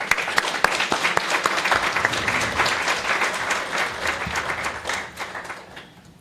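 Audience applause welcoming a lecturer onstage at a talk on the social life of migraine: steady dense clapping from a crowd, fairly loud, fading out over the last second.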